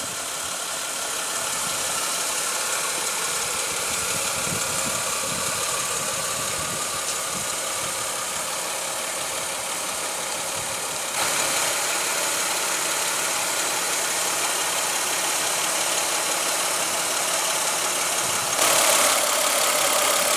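A 2007 Ford Fusion's optional 3.0-liter V6 idling under the hood, a steady mid-pitched engine drone with light rattling, recorded close and continuous with no voices.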